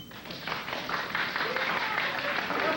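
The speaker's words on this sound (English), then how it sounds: "please applaud" Studio audience applause for a late-night talk show, a dense steady clapping wash that builds slightly over a few seconds, moderately distant.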